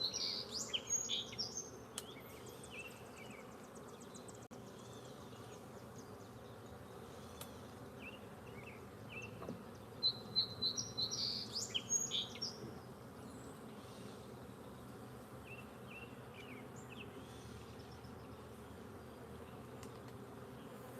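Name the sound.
honeybees buzzing around a beehive during inspection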